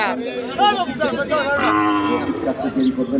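A bull at the Chandaikona cattle market in Bangladesh gives loud, drawn-out moos close by, set against the chatter and hubbub of traders and buyers talking nearby.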